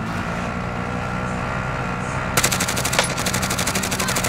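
Rapid automatic gunfire from the game Warzone rattles in a fast, even burst over a steady engine-like drone, loud and close, starting partway through and continuing to the end.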